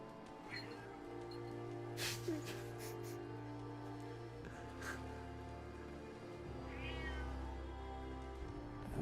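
A cat meows in Fallout 4, its cries sitting under a steady bed of game ambience, with a few brief rising calls standing out from the low background hum.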